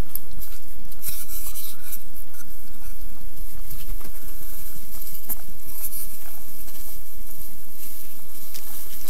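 Hand carving of a cedar wood spatula, a steady close scraping and rasping that continues with small irregular bursts throughout, with no voices.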